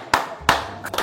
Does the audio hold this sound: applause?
yes